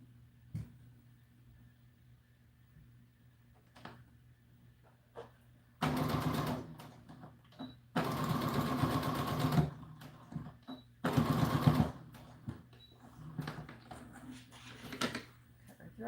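A sewing machine seams an American Girl doll dress in three loud whirring bursts of a few seconds each, separated by quiet pauses with small handling clicks.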